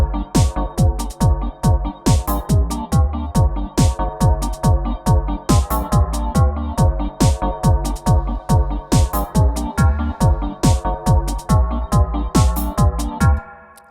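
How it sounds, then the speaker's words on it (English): Donk-style 8-bar loop of basic drums, two bass parts and an offbeat skank chord, playing loud and steady with punchy repeating kicks and stabs cycling through the bars with no one talking. "We just got basic drums, 2 bass parts and a skank."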